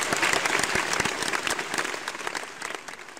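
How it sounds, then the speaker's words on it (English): Applause for boy contestants before a classroom quiz competition, steady dense clapping from a small group that fades slightly toward the end, close and with no talking. "let's give these boys a round of applause before the competition begins."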